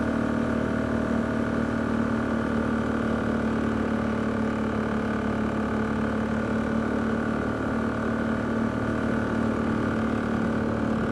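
A Polaris Diesel 455 engine runs steadily at its governed RPM, producing a constant mid-pitched drone that holds level and never revs up or changes, with no talking over it.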